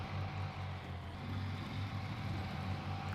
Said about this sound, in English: This truck is so damn loud.